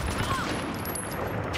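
Automatic gunfire in a first-person shooter video game, a dense continuous rattle of shots filling the whole moment at steady volume.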